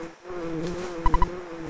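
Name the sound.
buzzing space bee in a video game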